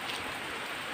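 Heavy rain pours steadily during a typhoon, a dense continuous hiss of drops drumming on surfaces with no break, close and loud throughout.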